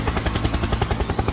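Steady, rapid thumping of helicopter rotor blades, a loud pulsing throb repeating several times a second with a broad engine roar underneath.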